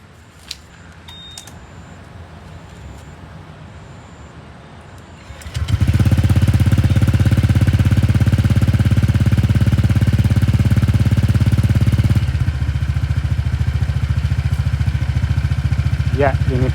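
A Honda Vario 125 scooter engine running on Castrol Power 1 Ultimate oil starts after a few quiet seconds, then idles with a loud, steady, close buzzing rattle until the end.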